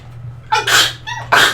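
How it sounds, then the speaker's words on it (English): Two sharp sneezes in quick succession, loud and close to the microphone, each with a short intake before the burst, over a low steady hum. "am I gonna stop sneezing like ever?"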